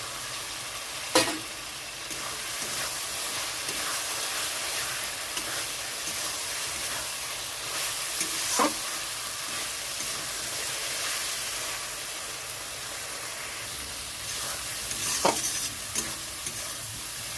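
Fried potatoes tossed into oil-rich cooked spice paste for a Bengali chang fish curry, a soft continuous sizzle and hiss with a few sharp scraping stirs of a spoon in the pan.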